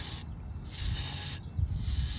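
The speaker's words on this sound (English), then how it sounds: "spray it in all the cavities where the gasket's gonna go" Engine degreaser is sprayed onto a Mercedes valve cover in two close, loud aerosol bursts that hiss for about half a second each, with a brief gap between them.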